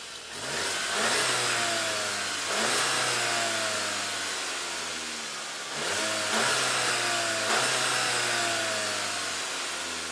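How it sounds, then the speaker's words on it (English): A 2019 Volkswagen Jetta GLI's 2-liter turbocharged engine revs up repeatedly, about four rising pulls that ease back toward idle between them, loud and close with a steady exhaust drone and no voices. "It's the typical Volkswagen 2-liter turbocharged motor, the same motor out of the GTI."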